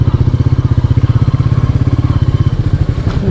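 A Royal Enfield Meteor 350 motorcycle rides over a patchy, potholed road, its engine producing a steady, loud, rhythmic thumping that stays close and unbroken, with faint road clatter and no speech.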